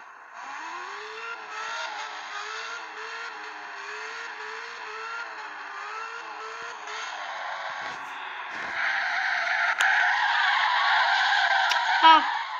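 A car in a driving game brakes hard and skids, with a long tire-squeal screech over engine drone that swells loudly toward the end, near and sustained.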